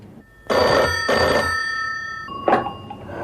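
An old-style telephone bell rings in two loud, close bursts, followed by a sharp clatter as the handset is picked up, set in a Hindi comedy show's government office.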